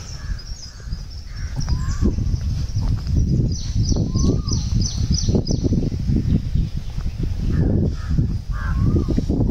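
Crows cawing over a garden in Pune, with several short harsh calls scattered through the clip above a steady, loud outdoor rumble of wind and traffic.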